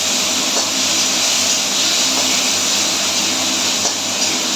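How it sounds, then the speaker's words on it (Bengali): Green chillies, vegetables and spices sizzling in a hot pan for a Kolkata-style bata fish curry, giving a loud, continuous hiss that holds steady close to the pan. "এর আগে আমি একটু লঙ্কাগুলো ফাটিয়ে দিয়ে দেবো ওর মধ্যে"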